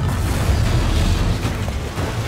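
A blast dust explosion in Monster Hunter World: Iceborne: a loud, sustained rumbling blast with heavy low-end roar and crackling debris noise, continuous for a couple of seconds with no talking.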